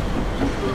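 A metro train runs through Osaka with a loud, steady rumble and rolling noise heard from inside the car.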